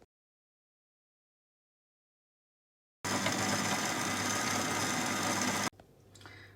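A food processor whirring steadily as it blends cheese and butter into a spread, starting after a few seconds of silence and running for about three seconds before dropping away to quieter residual noise.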